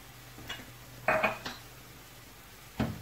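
Paneer filling mixed with tikka masala powder in a bowl: a few sharp spoon clinks and taps against the dish at uneven intervals, close and fairly quiet, with no talking.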